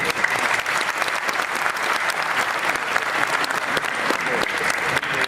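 An audience at a Jain community religious discourse breaks into continuous, dense applause, steady and fairly loud for the whole stretch with no voices over it.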